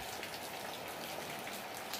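Heavy rain falling steadily, a dense continuous hiss of drops on surfaces, even in loudness and without pauses.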